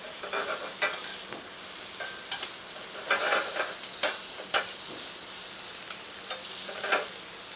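Steamed lobsters sautéing in a hot pan, with a soft continuous sizzle broken by intermittent scrapes and clinks of stirring. The sound is fairly quiet and close, and nobody speaks.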